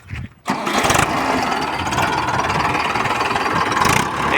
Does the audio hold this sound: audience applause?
no